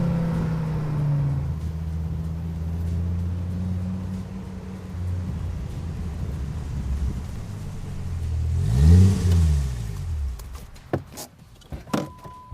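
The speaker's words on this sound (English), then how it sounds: "I don't like the exhaust note on a V10 engine" A Dodge Viper V10 sports car engine idles with a steady low drone, then surges in a sharp rev around the middle before dropping off, followed by a few clicks and knocks.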